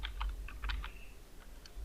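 Quiet, scattered clicks of fingers typing on a computer keyboard, a handful of separate keystrokes with short gaps and no talking, over a low steady room hum.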